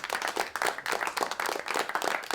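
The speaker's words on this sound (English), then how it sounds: "Have some applause." A small group claps and applauds in a quick, uneven patter that continues steadily throughout, moderately loud with no voices, as a sound effect in the game Dark Age of Camelot.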